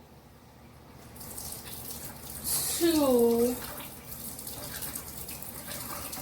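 Water from a can poured into a coconut milk mixture for coconut rice, a brief gushing splash swelling for about a second in a quiet kitchen, with a few soft spoken words.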